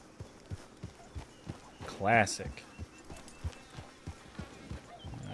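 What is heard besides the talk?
horses' hooves clip-clopping in the video game Red Dead Online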